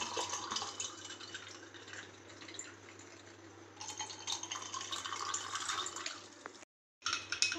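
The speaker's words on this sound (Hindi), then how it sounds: "और अब डालेंगे हम इसको ठंडा पानी" Cold water is poured into aam panna, a raw mango concentrate, in a kitchen: a steady close splashing and trickle of liquid filling a glass that runs for several seconds, then briefly stops and resumes.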